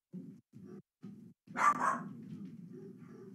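Close by, a pet dog barks several times in short bursts indoors, then lets out a louder, sharper bark that drags into a whining, growly sound.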